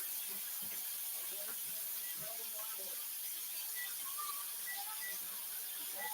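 A steak sizzles in a hot pan just after being flipped, giving a constant bright hiss and crackle with small pops and spits scattered throughout, close up and steady.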